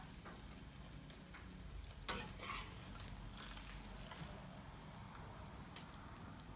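A Thai-style stuffed omelette fries in oil, giving a faint, continuous crackling sizzle with scattered pops and a brief louder burst of spatter midway, no one talking.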